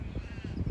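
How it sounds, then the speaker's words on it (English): Crows caw in springtime bushland, faint and distant over a soft steady wind background, a brief run of rough calls. "you can hear the crows"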